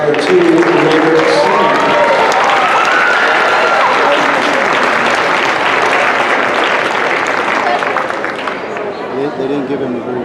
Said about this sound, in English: How about another round of applause for our 2 Raider Seniors?